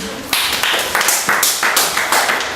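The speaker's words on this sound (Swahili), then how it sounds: "Haya, makofi." Primary school pupils in a classroom game clap together in rhythm, about eight crisp, evenly spaced group claps ringing out nearby with no talking.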